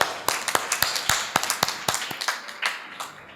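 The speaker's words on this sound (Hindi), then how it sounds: "एक बार तालियां रंजीत के लिए होना चाहिए" Applause from an audience at a mushaira poetry recital in Jalandhar, Punjab: a fairly sparse run of distinct claps, moderately loud and thinning out toward the end, with no voices.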